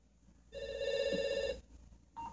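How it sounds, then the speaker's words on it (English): A telephone rings in The Sims 3, one sustained electronic ring with steady bright harmonic tones lasting about a second, followed by a short softer chirp, with quiet game ambience beneath. "I'll freaking answer my phone, which is highly annoying!"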